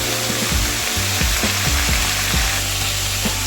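Broad beans (avarakkai) sauté in a pan, giving a loud continuous sizzle with rhythmic scraping strokes as they are stirred, close up and without voices.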